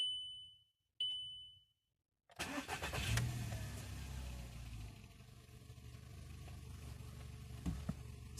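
A 2004 Volkswagen Golf with a 5-speed manual gives two short warning chimes, then the engine cranks and catches with a loud rev before settling into a steady, even idle, close by with no talk.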